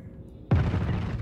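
A single heavy boom from a weapon fired at a ship's cockpit in Star Citizen, a sudden loud hit after near quiet, followed by a rumbling decay.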